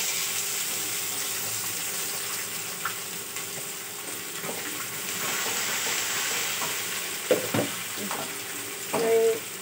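Onions sizzling in hot oil in a pan for masala upma: a steady, close frying hiss throughout, with occasional clinks and stirring knocks near the end.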